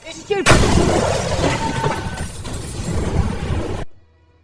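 A sudden explosion blast in an action film bursts in loudly after a brief lead-in, its rumbling debris and roar sustained for several seconds before cutting abruptly to near silence.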